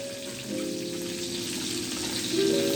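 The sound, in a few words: sausage patties frying in a pan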